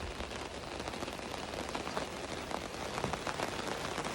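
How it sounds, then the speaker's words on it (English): Rain falling in the Arizona backcountry near Quartzsite, a dense steady hiss of drops striking surfaces all around, even and unbroken with no voices. "It's raining."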